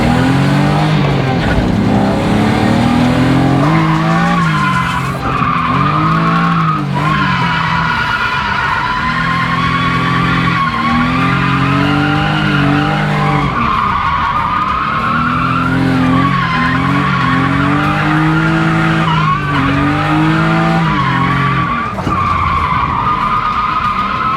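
A car drifts around a track, its engine revving hard in rising and falling surges while the tires skid and squeal loudly and continuously through repeated slides.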